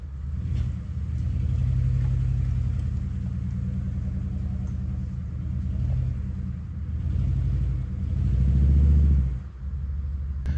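An old one-ton truck engine rumbles steadily while driving up a dirt trail, with the revs swelling and easing and a louder surge near the end, and no voices.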